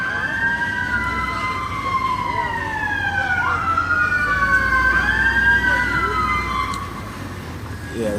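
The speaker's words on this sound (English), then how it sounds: "Cut off the sirens." Fire truck or police sirens wail past loudly, a rising and falling tone sweeping steadily over traffic rumble and fading slightly toward the end.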